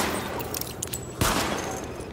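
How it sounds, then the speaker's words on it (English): Gunfire at highlighted targets during a weapon test in the video game Tom Clancy's The Division, a brief burst of sharp shots over a rumbling game soundscape, with one stronger report near the middle. "Open fire at the highlighted targets."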